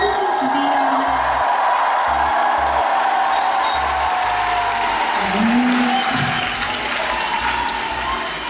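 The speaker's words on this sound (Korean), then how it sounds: "너무 고생 많은 우리 댄서들. 박수 한 번만 주세요." A Seoul concert crowd applauds the dancers, producing a loud, steady wash of clapping with whoops and cheers, while a low music bed runs underneath throughout.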